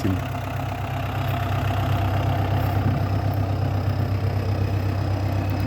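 An MTZ 1025 tractor engine idles steadily with a deep, even rumble and a faint rhythmic knock, running alone and close by.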